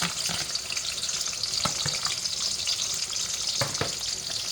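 Onions frying in a pot for Okazi soup hiss and crackle loudly and continuously, close up, with a few sharper pops standing out and no talking.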